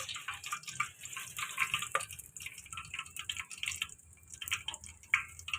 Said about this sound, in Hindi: जीरे की आवाज़ आपको आ रही है ना। हाँ, ये करकराने लगा है।